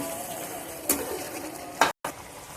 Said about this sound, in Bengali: নুনটা দিয়েও একটু নেড়ে দেব